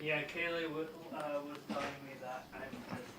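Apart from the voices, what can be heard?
No everyday noises stand out.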